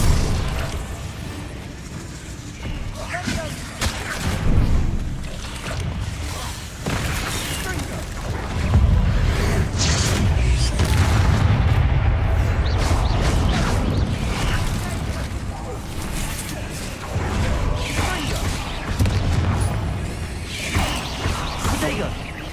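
Spell blasts from Confringo and Bombarda in Hogwarts Legacy, heard as repeated booming bursts and crackling impacts in a dense game battle, with a voice shouting incantations over the top.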